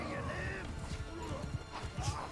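Horses charge across a Bannerlord battlefield, a dense mass of hooves and whinnies under the din of combat, with a voice talking over it throughout.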